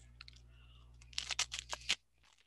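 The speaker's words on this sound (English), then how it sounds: "Sorry for the crunching noises" Someone chews homemade butter, producing a quick burst of close, crisp crunching bites after a faint click or two, in a quiet room.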